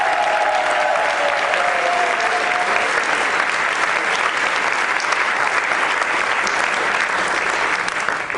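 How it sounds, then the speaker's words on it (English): An audience gives a long, loud round of applause for two set builders at a summer camp's superhero show at a theatre, dense steady clapping throughout with no talk. "So give Carol and Mark, who are here, a huge round of applause."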